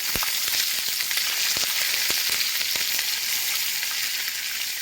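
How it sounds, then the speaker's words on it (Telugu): Dried red chillies, curry leaves and green chillies fry in hot oil with a steady, loud, close hiss and scattered sharp pops and crackles throughout. "చూడండి, నేను ఎండుమిర్చి వేసాను, కరివేపాకు, పచ్చిమిర్చి,"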